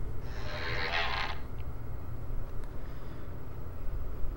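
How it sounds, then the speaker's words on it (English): A door in the White Day school horror game gives a high, raspy creak for about a second over a steady low ambient drone, followed by a faint click. "That door sounds just ridiculous in every way."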